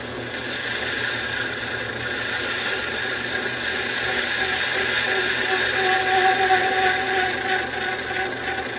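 A lathe cutoff tool cuts a groove and gives off a steady high-pitched squeal over a hissing metallic rasp. The cutting noise runs continuously at moderate loudness throughout.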